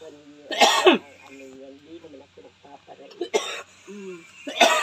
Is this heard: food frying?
no